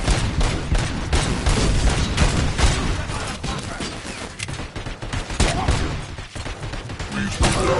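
Sustained heavy gunfire in the game RoboCop: Rogue City, continuous loud rattling volleys and impacts throughout, with a voice briefly heard amid the shooting.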